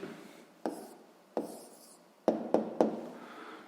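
Pen or pencil writing down an answer to a sixth-grade math exercise: a few short scratchy strokes in quick bursts, close and fairly quiet, with no talking.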